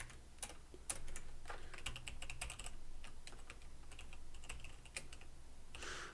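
Quiet, close typing on a computer keyboard: irregular bursts of light key clicks with short pauses, alone without speech.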